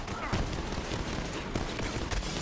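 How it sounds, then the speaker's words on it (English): Rapid bursts of gunfire rattle almost without pause as robots are shot down in the video game Borderlands 3, with dense layered shots and impacts filling the whole stretch at a loud, close level. "just shoot these robots down quickly"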